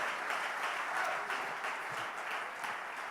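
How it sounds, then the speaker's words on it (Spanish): A church congregation claps together in a steady, continuous wash of applause, fairly soft and distant, with no voices rising above it. "dele una ofrenda fuerte con sus palmas, porque cuando usted aplaude"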